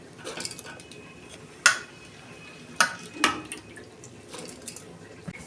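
Metal pot clanks in a kitchen while washed lentils go into a pressure cooker: three sharp knocks over soft dripping and rustling, fairly close with no voices.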